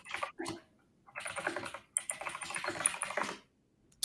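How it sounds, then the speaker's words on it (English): Rapid, furious typing on an extremely loud computer keyboard, close and clear, in dense bursts of clacking keys with a couple of short pauses and no talking. "That was some furious typing. Sorry, I've got the loudest keyboard possible."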